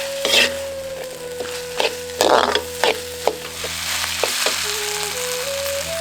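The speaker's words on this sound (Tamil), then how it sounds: "காய்கறி நல்லா வதக்கிட்டு" Vegetables sizzling and frying in a pan with beans, carrots, green peas and tomatoes for a vegetable kurma, with steady sizzle and several sharp stirring scrapes and knocks of the spoon against the pan.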